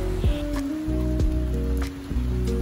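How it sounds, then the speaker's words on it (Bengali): Nonstop heavy rain during a day out in Chittagong near Patenga sea beach, a steady dense wash of drops with no letup, loud and close throughout and nobody talking. "প্রায় 3 ঘন্টা চলল বিরতিহীন বৃষ্টি"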